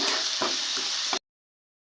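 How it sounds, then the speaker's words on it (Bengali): Ground spices fry and get stirred in a hot pan, a close, even sizzle with soft scraping for about a second before cutting to silence. "নেড়ে চেড়ে মশলাগুলোকে 5 মিনিট কষিয়ে নেব।"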